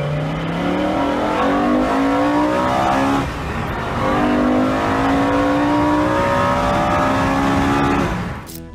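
The V10 engine swapped into a BMW E60 revs hard and loud, its pitch sweeping up and down through repeated rising pulls with a brief dip partway through, heard alone without talk.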